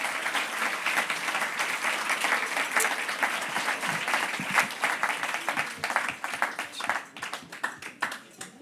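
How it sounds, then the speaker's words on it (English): An audience at a live spoken-word show claps steadily, dense applause that thins into scattered individual claps toward the end. "are your hands hurting from clapping yet?"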